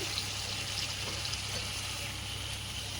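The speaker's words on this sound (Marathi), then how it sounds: "थोडं पाणी घालूया" Water pours steadily into a pan of cooking cauliflower curry in a continuous hissing, splashing stream, moderately close, with no voices.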